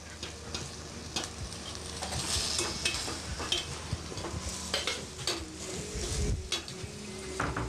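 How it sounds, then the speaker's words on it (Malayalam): A spiced chicken thoran mixture is stirred in a pan with a low sizzle, the spoon scraping and clinking against the metal in uneven strokes, growing busier toward the end. No voices. "ഇത് നന്നായിട്ടൊന്ന് ഇളക്കി കൊടുക്കുക"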